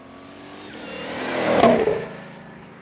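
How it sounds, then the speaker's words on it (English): A Shelby GT500 roars past at a cars-and-coffee meet fly-by, its engine note building steadily to a loud peak near the middle as it passes close, then fading away, with no talking over it. "GT500 coming our way"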